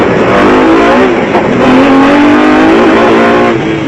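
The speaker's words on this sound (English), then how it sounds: "On board with Hannes Hobler and Richard Leake in the Nissan Hardbody Super Truck." A Nissan Hardbody Super Truck races off-road in South Africa. Its engine drones loudly and steadily from on board, with shifting revs and no one talking.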